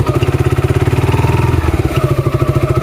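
A motorcycle on a rain-soaked village road at night runs close and loud with a rapid, pulsing engine throb, the beat briefly rising as it revs while the wheels slip in the mud.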